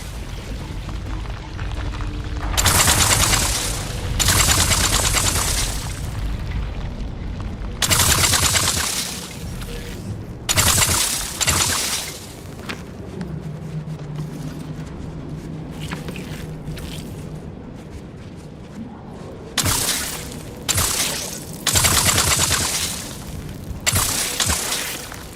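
Bursts of energy-gun fire in The Outer Worlds 2, several loud sustained volleys separated by quieter gaps with footsteps and game ambience.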